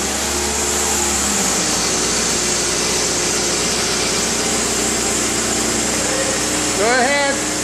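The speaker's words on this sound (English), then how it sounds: "Gary, if you'd like to start the engine and hit the washer fluid." Car engine cranking and then idling steadily inside a cold test chamber, a continuous mechanical hum with a brief whine near the end, heard at close range.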